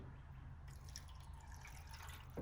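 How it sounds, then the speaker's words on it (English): Water poured into a cup and draining back out during repair work on a 1966 Mustang Fastback, a steady close trickle with light splashing throughout, no talk. "Toss a whole mess of water in there, coming out right there."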